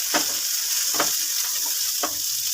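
Ground spices and coriander-cumin powder fry in a pan over a medium gas flame, giving a constant close hiss punctuated by three scraping stirs, with no voices.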